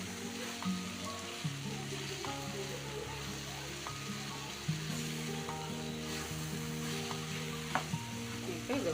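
Eggplant sautés in hot oil with chili powder, a steady soft sizzle and crackle with occasional clinks and scrapes of a spoon stirring the pan, close and continuous without talk.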